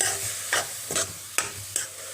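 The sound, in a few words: grated papaya frying in a pan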